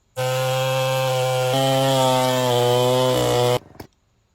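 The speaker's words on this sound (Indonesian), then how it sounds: "Itu adalah suara mesin pemotong kayu." A chainsaw cutting wood roars steadily at close range, its buzzing engine pitch shifting slightly as it bites, then cuts off abruptly with a brief rattle.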